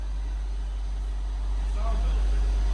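A 1990 Toyota MR2 engine idles steadily nearby with a low, constant rumble, with no rev counter working and the charging system running.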